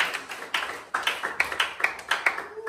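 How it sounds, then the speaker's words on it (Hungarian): Lively applause for wedding drivers from a small group at a wedding, irregular sharp claps coming in bursts, close and fairly loud, fading toward the end. "Egy nagy tapsot ezeknek a turbóknak"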